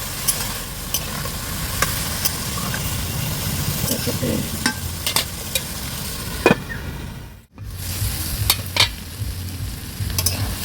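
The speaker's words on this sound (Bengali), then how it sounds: "এবারে ভালো করে ভাজা ভাজা করে নিই সুজিটা আলুটা যখন একটু লাল লাল হয়ে যাবে" Potatoes and semolina fry in a wok under repeated scraping and clinking of a spatula, a rough crackle with distinct stirring knocks; a brief dropout occurs midway before the frying resumes.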